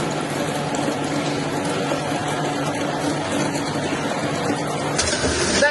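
Water runs steadily from a tap, with a loud, dense, continuous rush and splash close by and a brief clatter near the end.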